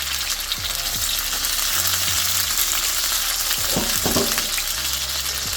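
Polenta slices frying in a pan, forming a crust: a dense, even hiss of hot oil throughout, close and steady, with a few soft scrapes and taps near the middle and no talking.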